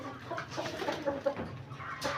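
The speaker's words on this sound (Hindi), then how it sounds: "ये मुर्गा है।" A rooster clucks in short, soft bursts around a farmyard setup among other birds and animals, close by and fairly quiet over light background noise.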